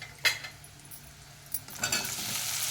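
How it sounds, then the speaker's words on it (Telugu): Potatoes cut into small pieces frying with garlic, onions and green chillies in a pan, a soft steady sizzle broken by a few sharp clinks and scrapes of a utensil stirring against the metal. "చిన్న చిన్న కట్ చేసుకున్నాను ఫ్రై చేస్తున్నాను"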